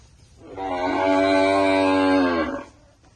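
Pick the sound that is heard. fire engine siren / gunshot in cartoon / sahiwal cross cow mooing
sahiwal cross cow mooing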